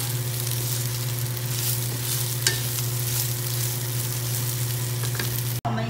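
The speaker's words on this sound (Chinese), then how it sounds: "然后现在把素食的炖羊肉呢炒成金黄色" Vegetarian mock mutton stir-fries in a pan until golden, giving a steady close sizzle with light stirring scrapes and occasional clinks, and no voices.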